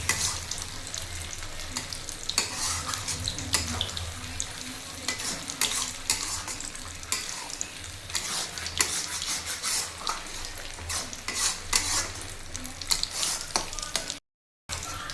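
Shrimp and water lily stems with mustard are stirred in a sizzling pan, giving a steady close frying hiss with scraping spoon strokes throughout and a brief dropout near the end.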